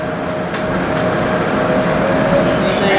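A train running on the rails, heard from inside a carriage as a loud steady rumbling roar with a faint whine, and a few brief clicks near the start.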